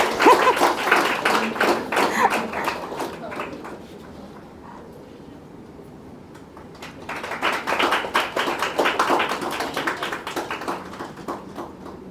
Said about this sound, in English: So, give her a very good round of applause.